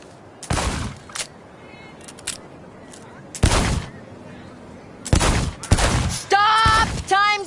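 Gunfire at a timed shooting-range station in Cyberpunk 2077: separate loud bursts of shots spaced across several seconds, each cutting sharply out of near silence, with electronic beeping tones toward the end.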